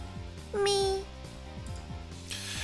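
A video game character gives a short, high, sliding meow-like cry that imitates a cat, heard once near and clear over light background game music.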